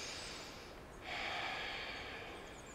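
A slow, deep breath during a morning yoga stretch: a soft inhale rises to a fuller airy exhale about midway through, quiet and close, with no talking.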